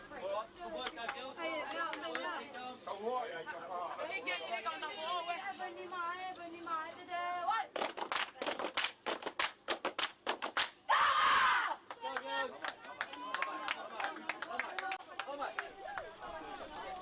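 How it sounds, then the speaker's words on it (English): Tongan women's team players in an open women's match chant rhythmically with sharp claps, a dense crowd of voices that peaks in a loud burst of cheering partway through. "then I heard the Tongan girls making the most rhythmic chant for themselves below me"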